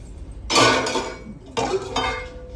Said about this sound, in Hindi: अब तो मैं बर्तनों की आवाज से ही समझ आता हूँ।